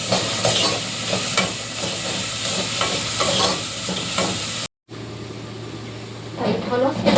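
Onions frying and being stirred in a pot for a stewed kebab dish, a steady sizzle with scraping strokes, broken by a brief silence, with a voice talking over parts of it.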